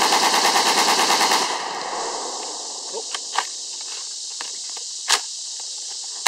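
A 52KD rifle fires a rapid, loud burst of fully automatic 7.62x39 fire from a drum, which stops abruptly and gives way to quiet outdoor sounds with a few scattered clicks and footsteps.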